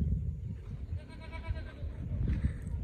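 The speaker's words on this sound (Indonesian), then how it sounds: "Kambing di atas." Goats bleating near a seaside village of huts, several wavering, quavering calls close by, one long bleat in the middle and another shorter one near the end, over low background rumble.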